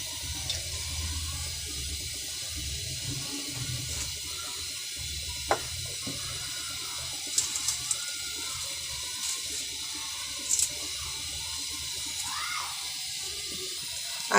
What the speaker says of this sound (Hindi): ये 1 कप ऑयल डाल दूंगी।